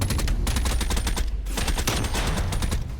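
Sustained automatic gunfire in the video game Call of Duty Cold War, a steady stream of rapid shots that fills the clip with no pauses and no talk.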